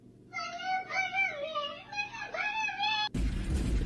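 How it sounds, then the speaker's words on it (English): A cat meows in a series of drawn-out, wavering cries, followed by a sudden burst of rough noise at the end. "No, that's a cat talking."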